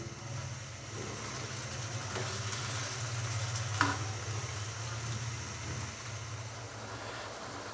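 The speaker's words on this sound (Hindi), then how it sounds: "ऑयल के अंदर हम चिकन को तकरीबन 5 से 7 मिनट के लिए हाई फ्लेम पे कुक कर लेंगे, या के भून लेंगे या के फ्राई कर लेंगे।" Chicken frying in oil on a high flame for a Hyderabadi chicken curry, giving a steady, moderately loud sizzle with occasional stirring clinks and no talk.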